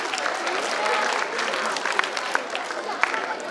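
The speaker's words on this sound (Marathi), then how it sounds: "आवाज टाळ्या वाजवा सर्वांनी" A seminar audience welcomes a psychiatrist guest with dense, continuous applause, a close crowd of hands clapping evenly throughout with a few sharper claps standing out.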